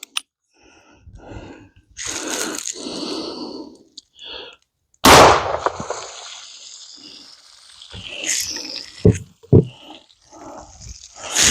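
A single loud .44 Magnum gunshot blasts into a hog shoulder, a sharp close crack with a brief ringing decay midway through. Scattered breathing, rustling and shuffling noises come before and after it.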